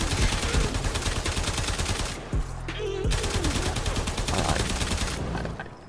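Braton Prime assault rifle firing in Warframe, rapid repeated gunshots in sustained automatic bursts, loud and close, with a brief pause mid-clip before firing resumes.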